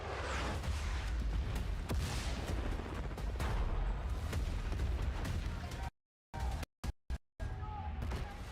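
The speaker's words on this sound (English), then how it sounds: "Returning gunfire in the streets of Cairo, and crippling machines of war on the shores of Gibraltar." Battlefield 6 trailer gunfire in urban street combat, dense overlapping shots and heavy blasts roaring loudly throughout, broken by several abrupt silent cuts near the end.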